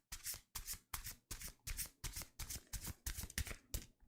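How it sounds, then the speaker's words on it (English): Tarot cards shuffled in a steady series of about ten crisp riffling bursts, each roughly half a second long, close and clear with no talking. "In the meanwhile, we'll have tarot shuffling ASMR."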